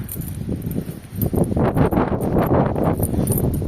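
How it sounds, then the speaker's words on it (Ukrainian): Strong wind roars and buffets the microphone continuously, with rustling gusts rising and falling throughout; no one speaks. "такий сильний вітер, що жах"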